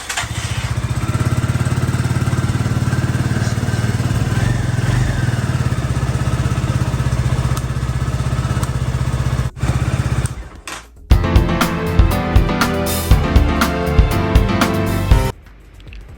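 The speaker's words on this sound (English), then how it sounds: "Alright, let's turn on the bike." A KYMCO Spade 150i motorcycle engine runs loudly and steadily for about ten seconds, then shuts off, followed by clattering and thumping handling noises up close.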